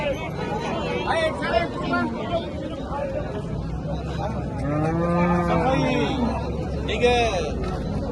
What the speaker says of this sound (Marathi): तर मित्रांनो हे गाय बघा